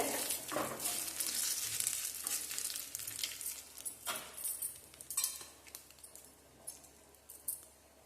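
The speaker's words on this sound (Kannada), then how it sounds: "ಒಗ್ಗರಣೆ ಹಾಕಿದೆ" Bursts of sizzling as a spice tempering with asafoetida hits hot oil for toor dal rasam, fading into quieter crackles, with occasional metallic clinks of a utensil against the pan.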